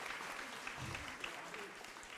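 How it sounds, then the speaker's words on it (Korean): Audience applause at a live Korean history lecture show, a continuous diffuse patter of many hands at moderate distance, fairly faint throughout the short stretch. "박수 한번 쳐주세요"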